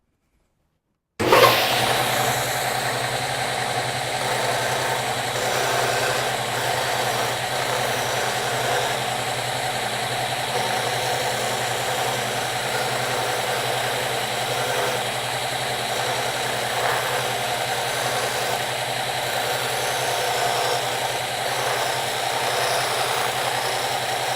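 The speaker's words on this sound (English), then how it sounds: "I'll turn the machine on and I'll show you how to sand down just to the line, just in this section" A disc sander is switched on after a second of silence and runs at a steady, constant motor hum with a sharp start, continuing unchanged while sanding down to a marked line.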